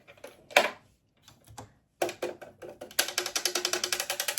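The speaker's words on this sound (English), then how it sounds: "that's the sewing machine" A sewing machine runs in short bursts with pauses, then settles into a steady fast rhythmic stitching clatter that is close and fairly loud. No one speaks.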